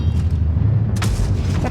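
A tank explosion in the World of Tanks video game, heard as a loud, deep rumbling boom with a sharper burst near the end of a brief, continuous blast.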